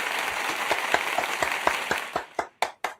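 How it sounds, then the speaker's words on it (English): A small group applauds at a casual metal-and-beer gathering, steady clapping that thins out into a few loud, separate claps near the end. "I think that one deserved a round of applause."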